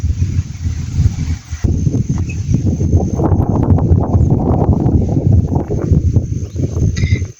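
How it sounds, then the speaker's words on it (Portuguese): Strong wind sweeping across a farm in gusty, rumbling bursts that buffet the microphone, rising and falling continuously and loud throughout. "o vento aqui, ó. Ventando muito."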